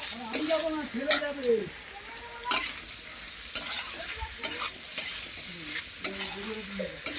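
Ginger, cumin paste and turmeric get stirred in a sizzling pan, with a spatula scraping in irregular strokes over steady frying crackle while someone talks in between.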